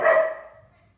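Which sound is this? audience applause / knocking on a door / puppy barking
puppy barking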